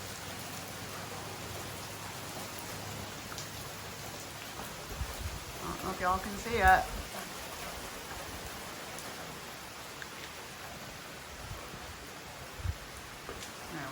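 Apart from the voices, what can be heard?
rain picking up outdoors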